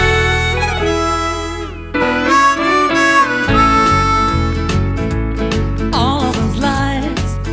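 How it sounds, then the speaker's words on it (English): A diatonic harmonica is overdubbed onto a song recording, its reedy sustained notes and bends loud and upfront over a full band backing. "So the first example is me overdubbing a diatonic harmonica"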